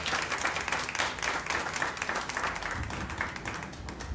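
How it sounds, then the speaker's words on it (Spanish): A church congregation claps for the Lord in a strong, sustained round of applause, dense and even, with many hands overlapping and no speech on top. "Vamos a dar un fuerte aplauso al Señor"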